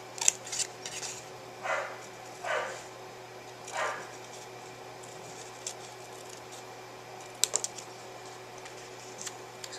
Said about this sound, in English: we're going to cut out the ticket